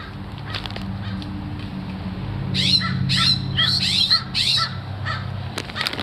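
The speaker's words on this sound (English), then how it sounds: "like 4 crows here." Several crows caw in a rapid, harsh series of loud outdoor calls while scrub jays are also around, the cawing rising over a steady low background rumble.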